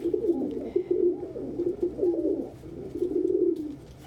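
Pigeons eating together at a food dish coo steadily, a low rolling murmur of several overlapping birds, close and continuous with soft pecking noise beneath.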